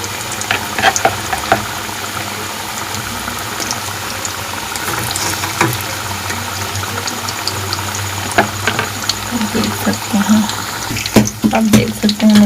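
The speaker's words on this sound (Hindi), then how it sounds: "मैंने इसमें और पकौड़े डाल दिए हैं कढ़ाई में फ्राई करने के लिए और अब ये अच्छे से फ्राई हो रहे हैं।" Pakoras deep frying in hot oil in a kadhai, giving a continuous loud bubbling hiss, close by, with a few clinks near the end.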